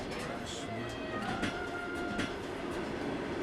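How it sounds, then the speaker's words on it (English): Trans-Siberian Railway passenger train rolling through the Russian Far East from Moscow, a steady rumble of carriage wheels on track heard from inside, with faint clicks and a few brief squeals. "they boarded the Trans-Siberian Railway at Yaroslavska Station, Moscow, and began that gargantuan train journey into the Far East."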